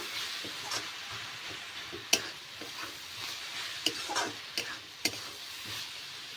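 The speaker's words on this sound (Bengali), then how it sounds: "ঢাকনাটাকে তুলে নেবো ভালো করে একটু নাড়িয়ে দেব" Cabbage and potato curry stirred in a pan after the lid comes off: soft scraping and sizzling with several sharp utensil taps against the rim, fairly quiet and close, with no talking.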